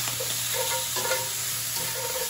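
Small pieces of garlic frying in a hot pan for bacon sausage ramen carbonara, a close, steady sizzle broken by a few scraping stirs of the spoon.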